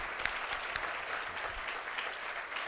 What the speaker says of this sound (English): So please, a warm round of applause for what they're doing for the country.